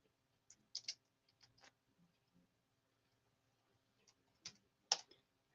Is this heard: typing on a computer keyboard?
yes